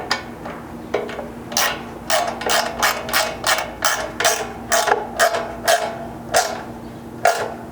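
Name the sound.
hex key tightening locking nuts on a truck bumper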